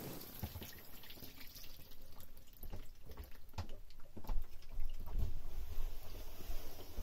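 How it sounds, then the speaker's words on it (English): Water pours steadily from an opened tap on a narrowboat into a tub after a calorifier pressure relief valve is replaced, a continuous close splashing rush that grows slightly louder, with no talk. "Just open the tap up and it's pouring out a lot"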